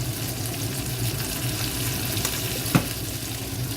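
Pork ribs frying in a hot pan give a dense, even sizzle throughout, with one brief louder knock or clatter near the end.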